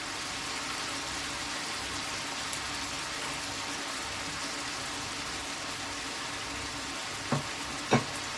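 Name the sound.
food frying in a pan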